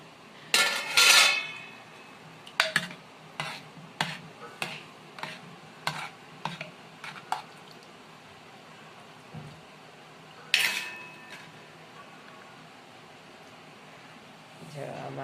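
Kheer is served onto a metal thali plate with a spoon, producing a series of close, light clinks and taps against the steel. Someone speaks quietly in the background.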